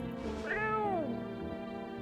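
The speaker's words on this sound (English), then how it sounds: "gonna pick up the cat." A cat meows once in the video game No, I'm Not a Human, a single clear, rising-then-falling call close by over a low steady background.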